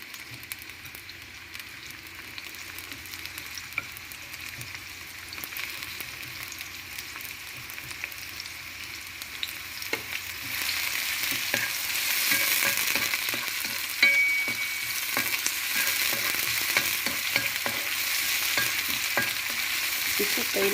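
Onions sautéing in a frying pan for vegetable spring rolls, starting as a soft low sizzle and swelling to a louder, steady crackle about halfway through, with scattered spatula scrapes and stirring clicks and nobody talking.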